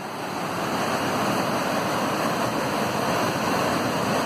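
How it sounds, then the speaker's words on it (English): A steady, dense roar of rushing, falling water at Dhuandhar Falls on the Narmada River, Bhedaghat, Jabalpur, loud and continuous throughout, with no voices. "You can see this lovely waterfall,"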